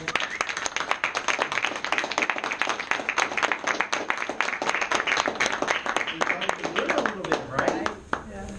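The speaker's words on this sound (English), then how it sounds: "give me a round of applause" Group applause with many hands clapping steadily and close by throughout, dense and sustained, with voices mixed in, at an outdoor field leadership gathering.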